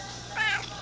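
A cat gives a single short, rising-and-falling meow that sounds almost like "wow," close by against a steady low background hum.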